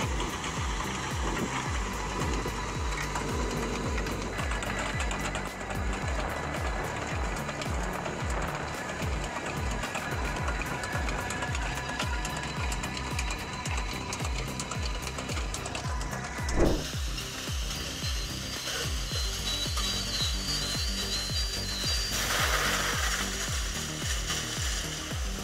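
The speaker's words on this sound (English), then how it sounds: "This machine prepares the soil by improving the soil up to 90 centimeters with or without fertilizer before" A tractor-drawn soil preparation machine on a farm works the ground up to 90 centimeters deep before planting, with or without fertilizer. It gives a steady, dense mechanical clatter with rhythmic ratcheting, loud and continuous, with no talk.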